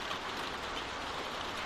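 Rainfall in The Walking Dead video game, a soft, even hiss of steady rain with no voices over it during the short stretch.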